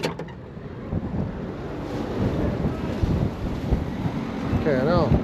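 Steady wind buffeting a microphone with low rumbling gusts throughout, rising slightly toward the end, with faint voices in the background.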